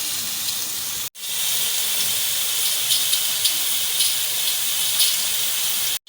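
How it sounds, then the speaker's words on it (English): Battered potato pakoras deep-frying in a pan of hot oil give off a loud, steady, close hiss that cuts out abruptly for a moment early on and again right at the end. "You can see how beautifully they are being deeply fried in the pan."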